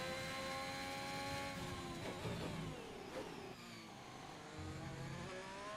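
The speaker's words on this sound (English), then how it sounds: "it's definitely the Ferrari engine. Listen to it." A high-pitched Ferrari Formula 1 engine in the racing video game F1 2021 whines through rising and falling revs, with faint rumbling underneath and no voices.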